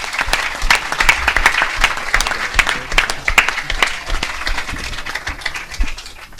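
An audience at a book presentation applauds the painter Augusto, steady dense clapping from many hands sustained for several seconds, close and lively, tapering slightly at the end.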